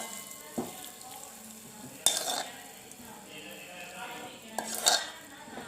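Liquid, a melted-sugar mixture, poured over cut pieces of dhokla, a soft, quiet hissing trickle broken by a few light clinks of a utensil against the dish.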